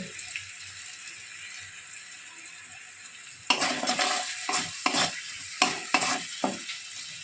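Apple pieces frying with salt in a pan over a medium flame, a faint low sizzle that turns into louder stirring scrapes and clatters in irregular bursts.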